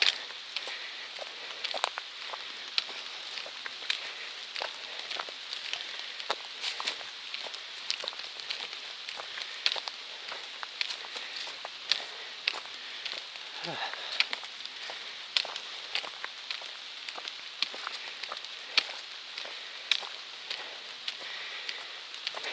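Rain falling on a small hiking tent along the Appalachian Trail, a steady close patter of drops with irregular louder taps across the fabric and no talking.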